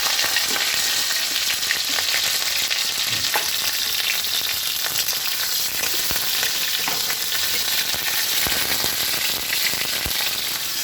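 Cauliflower frying in hot oil tempered with cumin and bay leaf, making a loud, continuous, crackling sizzle with scattered pops and faint stirring knocks, close by and without speech.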